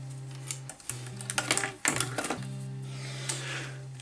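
A power drill bores a hole through a bench top power pack case in short bursts, the motor whine starting and stopping several times with clattering bites into the material, close and clear.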